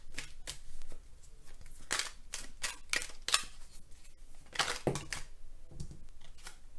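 Oracle cards from an Amethyst Love deck are shuffled and drawn for a tarot reading: a series of crisp, close card riffles and snaps arrive in irregular bursts, quiet and with no talking.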